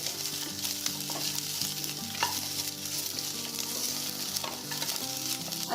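Three or four large chopped onions roast with whole spices in a pan for chicken suka. A steady close sizzle is broken by the clatter and scrape of stirring, with no talking.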